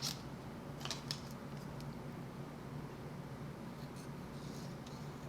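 Scissors snip through paper while letters are fussy-cut out, giving a few faint, brief crisp cuts over a steady low background hum.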